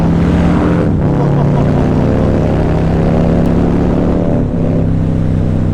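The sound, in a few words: Harley-Davidson Fat Boy 2020 motorcycle engine revving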